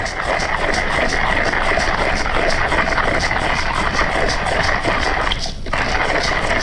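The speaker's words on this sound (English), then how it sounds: "I've already adjusted it for a coarse grind for French press, and I start to spin" A hand coffee grinder set coarse for French press grinds beans with a continuous, dense crunching rasp, close and steady throughout, with a brief dip near the end.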